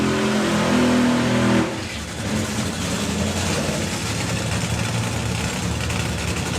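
A thunderous funny car drag racing engine blast cuts off abruptly as the car launches away, leaving a lower, rumbling engine roar continuing in the background.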